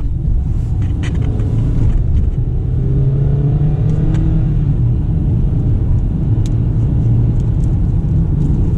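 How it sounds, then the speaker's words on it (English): A 2018 Kia Optima LX with manual shifting drives along, its engine giving a loud, steady low rumble from inside the cabin that rises slightly through a gear change, with road noise throughout. "show you the manual shifting right now. I'm gonna go to second gear first."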